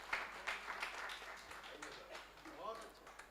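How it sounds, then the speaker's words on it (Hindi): Faint audience applause at a kavi sammelan in an auditorium greets an ADM, light scattered clapping running under a nearby announcer's voice. "जोरदार तालियों के साथ उनको स्वागत कीजिए"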